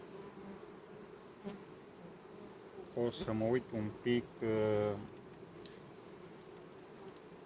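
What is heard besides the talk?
honeybees buzzing while two bee colonies are merged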